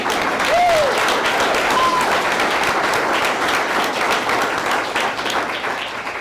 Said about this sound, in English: So they deserve all the applause.